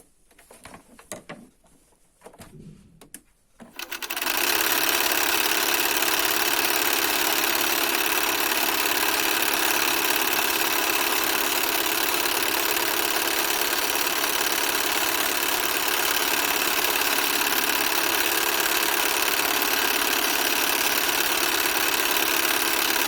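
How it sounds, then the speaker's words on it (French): Sewing machine running a continuous zigzag stitch along the full length of a large padded pouch with molleton batting, a steady, loud mechanical drone holding unbroken for about twenty seconds after a brief pause. "on va faire un point zigzag tout le long de la grande pochette"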